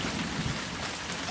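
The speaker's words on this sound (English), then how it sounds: "It's literally raining right now. Pouring. Pouring down rain." Dense, steady rain pours down with a constant hissing roar during a thunderstorm.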